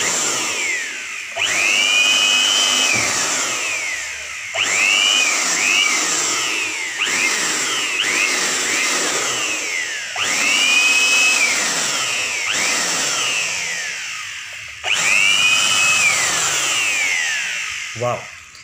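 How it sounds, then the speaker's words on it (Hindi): A JAKMISTER air blower cum vacuum cleaner runs loud and close with a steady high motor whine. Its pitch rises and falls repeatedly as it is revved in bursts over about eighteen seconds. "अब मैं आपको इसकी टेस्टिंग करके दिखाता हूँ ये कैसा है।"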